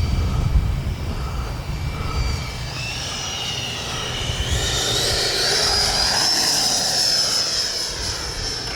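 E-flite Viper 90mm electric ducted-fan RC jet flying past along the runway, a loud sustained whooshing whine that climbs in pitch and intensity as it nears, heard alone outdoors.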